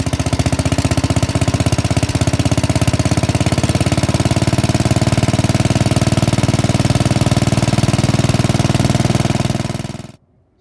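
A Wheel Horse 953 garden tractor engine hammers away in a loud, rapid, jackhammer-like knocking close by, holding steady for about ten seconds before it abruptly cuts off.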